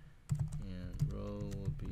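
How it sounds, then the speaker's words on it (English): Computer keyboard keys clicked in a few quick clusters, close and soft, mixed with other faint indoor sounds and a brief tonal murmur in between. "So then I'll type the company,"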